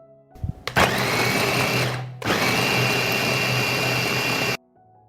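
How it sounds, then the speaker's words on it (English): An electric blender purees garlic with salt into a paste, whirring loudly in two bursts separated by a brief pause, then cutting off abruptly. "I'll blend it."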